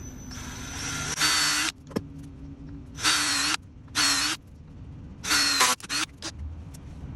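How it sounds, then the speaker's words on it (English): A cordless drill bores holes into an outdoor wood stump in four separate high-pitched whirring bursts, each lasting under a second. The drill is close and loud, with short pauses and small knocks between the bursts. "we're just going to go ahead and drill right into it."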